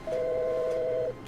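A telephone rings in the video game The Stanley Parable: one steady electronic two-tone ring lasting about a second, clear over a faint background hum.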